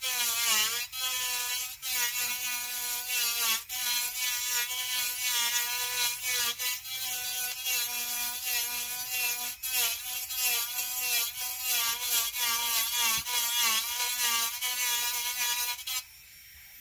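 A Kutzall carving burr on a rotary tool grinds into wood in a steady, loud, buzzing whine that holds for about sixteen seconds with small dips in pitch, then stops abruptly.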